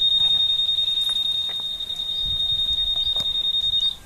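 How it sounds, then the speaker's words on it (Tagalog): A steady, piercing high electronic alarm tone sounds continuously at a riverside fishing spot in San Luis, Pampanga, loud and close, with faint background noise and a voice speaking briefly underneath. "Nag-a-alarm."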